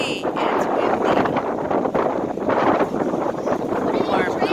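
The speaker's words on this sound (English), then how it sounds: "It's windy." Strong wind blowing at an ocean shore with big waves, a steady loud roar and buffeting gusts against the microphone throughout, with no clear talk.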